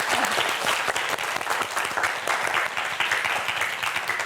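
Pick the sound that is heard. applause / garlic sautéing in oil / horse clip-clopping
applause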